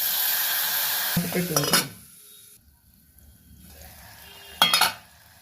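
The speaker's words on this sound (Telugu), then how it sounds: "ఇప్పుడు ఈ టమాటా ముక్కలు ఇందులో వేస్తాను" Tomato pieces fry in a hot pan over a soft sizzle, broken by two short bursts of clattering and stirring against the pan, one early and one near the end.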